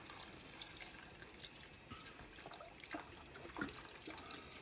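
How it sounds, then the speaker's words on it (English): Broth, about 5½ cups, poured into a pot of corn chowder with bacon, potatoes and carrots, giving a steady, moderately quiet liquid splashing and trickling that runs throughout with no talk. "I'm going to put the rest of my broth in."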